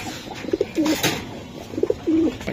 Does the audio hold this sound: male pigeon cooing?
yes